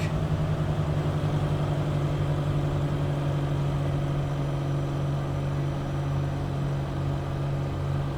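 Piston engine of a Piaggio P149D aircraft in a flight simulator video game, held steady at 2,200 RPM during a magneto check, a continuous even drone with a strong low hum and no talk.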